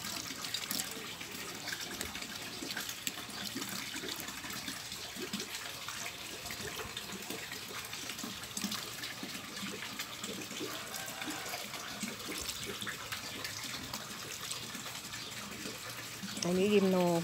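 Water pours steadily onto potted cactus plants, a continuous splashing and trickling rush that runs unbroken and fairly close throughout.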